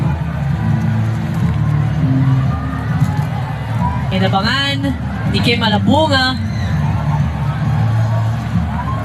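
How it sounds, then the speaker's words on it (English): A volleyball arena crowd roars continuously after the Philippines win a set over Thailand in a SEA Games men's semifinal, with dense cheering throughout and a commentator talking over the noise. "And the crowd roaring"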